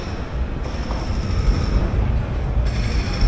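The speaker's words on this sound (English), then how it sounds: "You can literally hear the train above you." A train rumbles along the elevated tracks directly overhead at Borough Market in London, a steady low roar with faint metallic high tones running throughout, loud and close with no talking.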